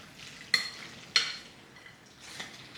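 A spoon stirs a fromage blanc mixture in a bowl, giving three soft scraping clinks spaced roughly a second apart, faint and close, with no talking.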